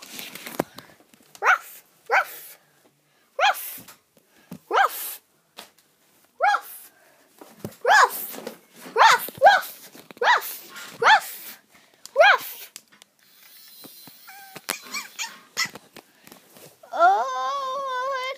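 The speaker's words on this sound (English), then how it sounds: "Oh, it's a puppy." A puppy lets out a series of short, sharp barks and yips in irregular bursts, some stretching into whimpering wails, close and fairly loud against a quiet background.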